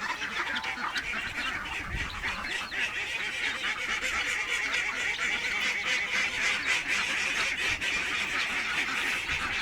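Many ducks quacking together in a dense, continuous chorus, loud and close, with overlapping calls filling the whole stretch and no talk.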